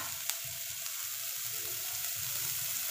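Vegetables for fried rice sizzle steadily in a hot pan, a continuous close frying hiss with faint stirring clicks and no voices.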